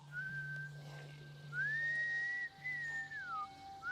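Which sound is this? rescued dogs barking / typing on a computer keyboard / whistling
whistling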